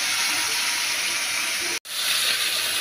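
Fish frying in a pan in a home kitchen gives a steady broadband hiss and sizzle that drops out for a split second, then resumes; no talking.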